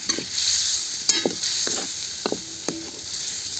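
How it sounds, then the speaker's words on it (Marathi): Steady sizzling hiss from a hot pan as masala is sautéed on a wood-fired clay stove, broken by several sharp scraping strokes of a spatula as the spices are stirred, close and fairly loud. "मसाला पण नंतर टाकून घेतला बघा आणि व्यवस्थित आता परतून घ्यायचे"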